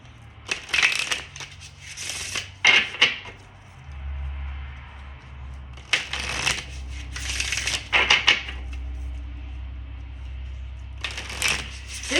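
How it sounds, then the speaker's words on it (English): Romance Lenormand cards are shuffled and riffled in several brisk bursts, crisp papery rustles up close, with quieter pauses and a low background hum between handlings. "We are going to go ahead and pull a few cards from this"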